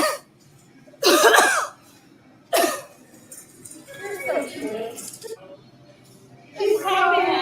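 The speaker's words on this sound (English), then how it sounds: "She's coughing on me." Two sharp, loud coughs from a nearby person, then quieter murmuring and a voice starting to speak near the end.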